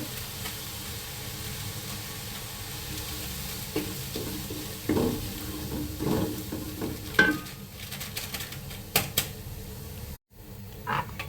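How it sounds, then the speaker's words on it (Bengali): Chicken biryani fries in a pan with steady close sizzling, broken by several stirring scrapes and clinks against the pan, no voices. "কিছুক্ষণ ভেজে নিচ্ছি তারপরে এই যে বাকি বিরিয়ানি মশলাটুকু দিয়ে দিব"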